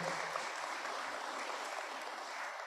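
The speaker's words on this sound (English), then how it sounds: "Round of applause for Nicole." A crowd applauding steadily, a dense wash of many hands clapping at an even level with no voices on top.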